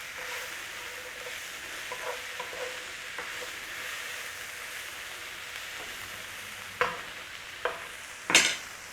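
A seasoned corned beef hash mixture is stirred and cooked in a pan, giving a steady low sizzle with a few sharp scraping clicks of the utensil toward the end.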